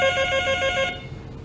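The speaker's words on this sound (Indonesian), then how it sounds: "telepon di atas meja XX1 berdering" A telephone on an office desk rings with a bright, electronic trill in quick repeated pulses, loud and close, then cuts off abruptly and leaves a quiet room.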